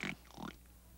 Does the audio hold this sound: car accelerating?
no